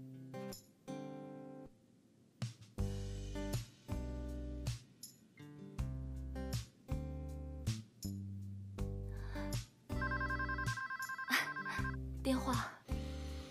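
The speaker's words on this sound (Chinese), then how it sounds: "电话。" A telephone rings in a run of repeated melodic bursts with short gaps between them, fairly clear and close, with some speech alongside.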